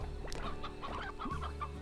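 Chickens clucking in the farming video game Slime Rancher, a few short bird calls scattered over steady game background sound and music.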